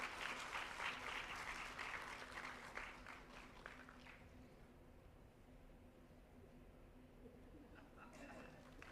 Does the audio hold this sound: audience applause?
yes